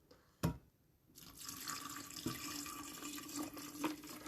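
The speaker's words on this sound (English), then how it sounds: "I'm going to pour some cold water in here" Cold water being poured into a vessel for making tea: a sharp knock, then a continuous splashing, trickling pour that keeps going with a few small surges.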